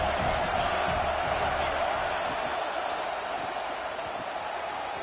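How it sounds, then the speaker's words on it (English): Stadium crowd noise in the NCAA 26 football video game, a steady broad roar of cheering fans, loud and continuous throughout, with faint commentary beneath. "This crowd knows this defense needs them right now."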